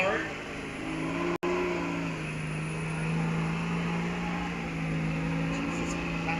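A misfiring 2007 Dodge truck with a 6.7-liter Cummins diesel idles in a low, steady drone with a sharp break partway through, heard amid a noisy event crowd.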